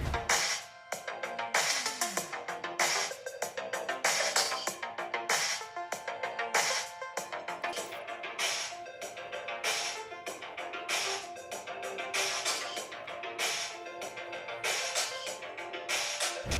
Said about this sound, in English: you just heard the speakers of the ROG Phone 5 and they do a fantastic job